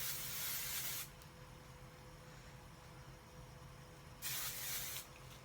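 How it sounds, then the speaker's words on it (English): Two bursts of Big Sexy Hairspray aerosol sprayed onto hair, each a close, bright hiss lasting about a second, separated by a quiet pause, with no talking. "I use Big Sexy Hairspray because I love big hair."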